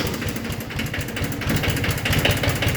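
Kubota B8200E compact tractor diesel engine on a cold start, a loud, close, rapid chugging idle with rough irregular pulses.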